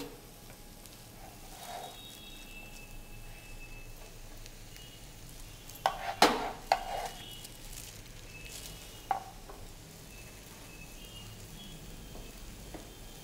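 Chicken with mushrooms frying in a pan, a quiet steady sizzle with a few sharp crackles and spatters in the middle as food is stirred.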